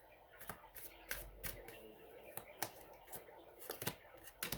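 Tarot cards shuffled and flicked by hand, a run of crisp, irregular riffles and snaps close up, quiet overall, with faint room sound between the card strikes.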